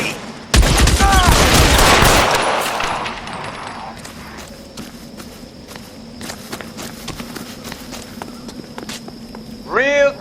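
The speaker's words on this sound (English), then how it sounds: "Son of a bitch shot me!" Gunfire in the game L.A. Noire: a loud, dense burst of shots erupts early and rings out into a decaying tail, followed by scattered sharper cracks and clatter, with someone shouting.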